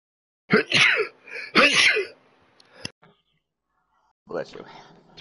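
Two sharp sneezes close to the microphone in quick succession, then a short pause and a voice speaking, during a racing video game session.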